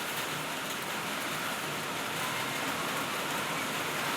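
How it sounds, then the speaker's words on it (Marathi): Heavy monsoon rain pours down steadily, a dense, loud, unbroken hiss of drops hitting surfaces that holds at the same level throughout with no talk. "पावसाचा तडाखा चालूच आहे"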